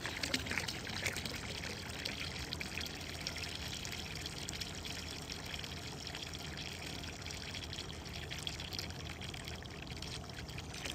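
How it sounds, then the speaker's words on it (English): Liquid pool chemical, a little over half a gallon, poured into a large home swimming pool to lower pH, making a steady continuous splashing trickle at even loudness throughout with no talk. "so now we're going to add our chemicals"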